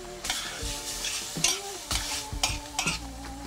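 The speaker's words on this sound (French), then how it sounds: "Un peu d'échalote avec un ail écrasé et vous remuez bien." Small diced carrots with shallot and crushed garlic sizzle in a pan while a utensil stirs and scrapes, steady close frying hiss broken by several sharp metallic scrapes and knocks, no talking.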